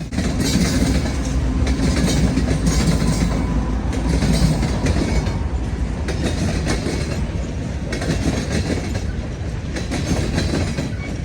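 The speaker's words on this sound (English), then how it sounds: "This train was lengthy, enough to warrant 2 mid-train DPU units." A long freight train with two mid-train DPU locomotives rumbles steadily past close by in Cordele, Georgia, its wheels clacking and grinding in a continuous loud roar that never lets up.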